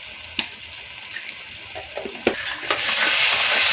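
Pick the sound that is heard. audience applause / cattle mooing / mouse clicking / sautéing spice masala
sautéing spice masala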